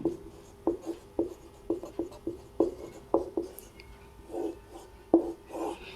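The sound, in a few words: writing on a board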